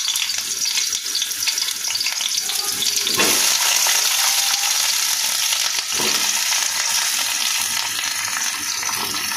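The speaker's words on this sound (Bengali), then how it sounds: "আমি সব সবজিটা এখানে একসাথেই ভেজে নেবো" Vegetables for sukto frying in oil in a kadai, giving a loud continuous sizzle with stirring scrapes and a couple of brief bursts as pieces are moved around.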